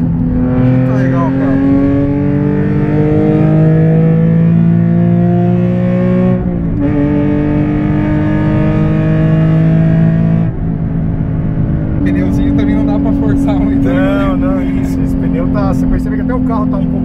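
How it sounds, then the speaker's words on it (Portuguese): Nissan 370Z Nismo engine, loud and close from inside the car, droning under load, then blipping up in pitch with sharp rev jumps as automatic rev-matching handles the downshifts. "Ele sobe o giro e a marcha entra."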